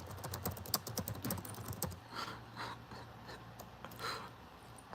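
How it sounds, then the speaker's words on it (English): Typing on a computer keyboard during a late-night stream wrap-up, a quick run of clustered key clicks in the first two seconds, then sparser, softer taps over a low steady hum, close and fairly quiet with no talk. "I'm typing out the title for the end of this stream"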